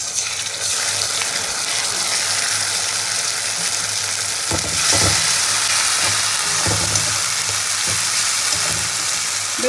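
Ground spice paste fries with onions in a hot pan, a loud, steady hiss of sizzling oil with bursts of stirring and scraping partway through. No voices are heard.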